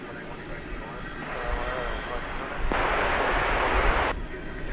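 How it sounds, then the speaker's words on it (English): An airliner lifts off from runway 18 left at Dallas Fort Worth Airport at night, a steady jet roar that swells and brightens as it climbs, heard at a distance under continuous background noise. "A leisurely liftoff."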